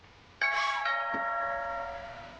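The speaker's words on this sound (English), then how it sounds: "The doorbell." A doorbell chime in the video game What Remains of Edith Finch rings out clearly, its tones lingering and slowly fading, with no talking.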